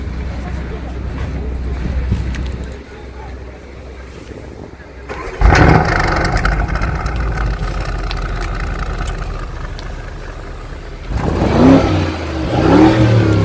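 The 2018 Porsche Cayenne Turbo with sport exhaust starts up and idles, a low engine rumble that rises with revving, then surges louder again near the end while people talk over it.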